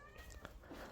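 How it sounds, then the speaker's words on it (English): A house cat gives a single soft, brief meow indoors, quiet and close against a faint background hum. "sorry, that's my cat"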